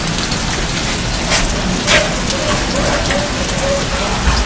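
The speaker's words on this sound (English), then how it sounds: "Look at that. More rain." Steady rain pours down, a dense broadband hiss with scattered drops pattering on a surface, loud and continuous throughout.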